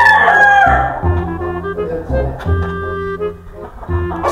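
A gamecock crows loudly and close by at a game farm, several long calls in a row, with other birds clucking and crowing in the background.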